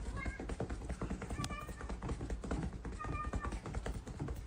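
A cat meows twice, short and fairly close, with a voice talking over the sounds.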